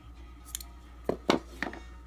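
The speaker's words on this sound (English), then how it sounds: "So I'll go in and trim these little edges off." Scissors snip fabric edges on a handmade fabric rose for a tie back, a few quiet, close cuts spaced apart with short pauses between them.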